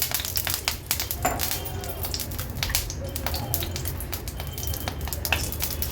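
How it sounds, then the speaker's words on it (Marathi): Ginger-garlic crush sizzling in about three tablespoons of hot oil in a pan on a gas stove, a steady close frying hiss with scattered crackles and pops throughout. "सर्वात आधी तेलावर एक मोठा चमचा आलं लसूण क्रश घालूया"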